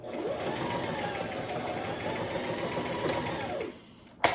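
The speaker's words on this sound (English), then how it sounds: "when you get to the end, you're going to tight stitch again." A basic domestic sewing machine runs steadily for about four seconds, tight-stitching at the end of a seam with a continuous close whir. It then stops abruptly, and a brief click follows.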